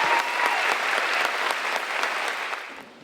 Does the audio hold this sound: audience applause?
yes